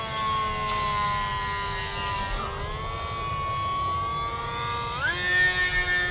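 An E-flite Delta Ray One RC plane motor whines steadily at full throttle, a high electric tone sliding in pitch as the plane passes overhead, with a brief rise near the end over steady wind noise.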